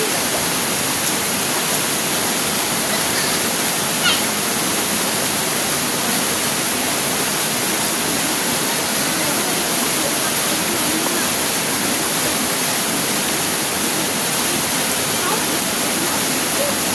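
Steady, dense rush of water from a waterfall and stream in the woods at the end of a hike, a continuous broadband roar that fills the whole stretch without a break.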